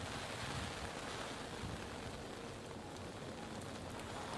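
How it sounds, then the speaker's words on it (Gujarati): Incessant monsoon rain falls in Mumbai as a steady, dense hiss of drops striking surfaces, faint and unbroken throughout with no voices. "સતત વરસાદ અને તેના કારણે આ પરિસ્થિતિ."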